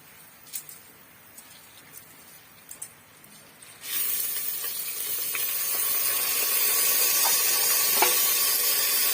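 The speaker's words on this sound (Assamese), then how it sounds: "এইখিনি ধুনীয়াকৈ অকণমান এইখিনি ফ্ৰাই কৰি হৈ যাব আৰু ফুটিব আৰম্ভ কৰিলে" Whole bay leaf, cloves, cardamom and cinnamon drop into hot oil and break into a steady sizzle with scattered crackles and pops, loud and close, after a few seconds of quieter kitchen clatter; no talking.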